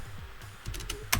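Quick keystrokes on a computer keyboard, a brief burst of a few soft, close clicks, quiet and without talk.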